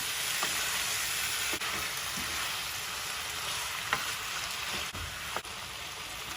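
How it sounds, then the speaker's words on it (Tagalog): Pork for menudo is poured into a hot pan together with its marinade and stirred, producing a loud, continuous sizzle broken by occasional clinks of the spoon against the pan. "Ibubuhos ko na po lahat. Kasama po yung pinagbabaran. Saka po natin haluin."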